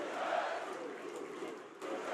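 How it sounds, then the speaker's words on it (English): Crowd at a college basketball arena during Nebraska versus Indiana, a dense roaring cheer that swells and holds steady across the moment, with no distinct voices standing out. "Listen to this crowd."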